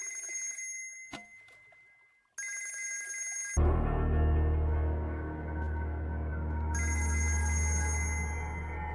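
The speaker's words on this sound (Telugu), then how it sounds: "రషీద్ బై ఫోన్ ట్రై చేస్తున్నాడు" A telephone rings in bursts of bright electronic trilling, pausing briefly between rings, with a low hum and background sound joining partway through in a film scene.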